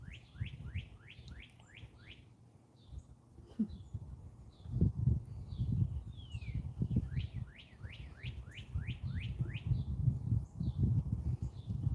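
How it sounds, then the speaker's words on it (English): Outdoors, a bird gives repeated quick, sweeping whistled chirps in bursts, clear above a low rumbling background. "As a bird calls."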